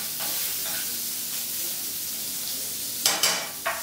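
Sliced Spanish chorizo frying with onions and garlic in a pan, giving a steady close sizzle, then a few sharp scrapes of stirring near the end.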